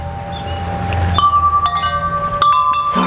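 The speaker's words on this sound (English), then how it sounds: "Sorry about the wind chimes." Wind chimes ring outdoors in a garden, with clear sustained metallic tones sounding one after another over a soft breezy background.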